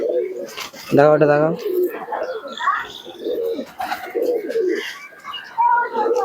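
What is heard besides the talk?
teddy pigeons cooing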